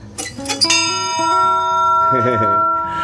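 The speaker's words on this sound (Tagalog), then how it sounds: "meron dito sa Enoshima yung love bell. Pagka kinalembang mo daw, sign siya." The love bell at Enoshima, Japan rings out in several quick struck clangs, then a long bright resonating tone that sustains and slowly decays, loud and close, with voices briefly over the start.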